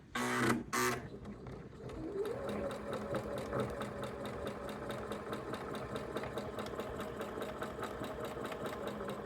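Sewing machine with a quarter-inch foot running a quilt block seam, a steady fast rhythmic whir that continues close and loud for most of the clip after a brief clatter at the start.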